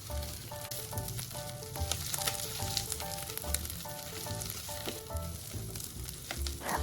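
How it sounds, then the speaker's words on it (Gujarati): Capsicum, carrot and paneer sauté in a hot pan until golden brown, giving a steady close sizzle with faint scraping and stirring, and no voices. "વેજીટેબલ્સ આપણા ગોલ્ડન બ્રાઉન થાય ત્યાં સુધી આપણે સાતળી લેવાના છે."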